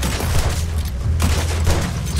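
Dense gunfire in Red Dead Redemption 2 during a legendary alligator encounter, a continuous loud barrage of overlapping shots and booms with a heavy low rumble throughout.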